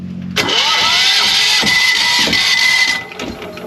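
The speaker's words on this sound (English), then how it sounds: "We're gonna try to start the engine again" A boat engine cranks and catches with a sudden loud whirring starter whine that holds for about two and a half seconds with rising mechanical tones, then drops off into rougher sputtering, close and loud with no talk.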